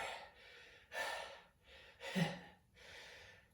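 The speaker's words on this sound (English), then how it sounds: "I'm breathing." Heavy, labored breathing after a workout, about four long, loud inhale-exhale pulls close to the microphone with a gasping, slightly snorting edge, no talking.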